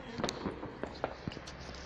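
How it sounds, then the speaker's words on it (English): Fireworks on bonfire night in the UK pop and crackle at a distance, with several sharp bursts scattered over a steady outdoor rumble. "there's gotta be more fireworks"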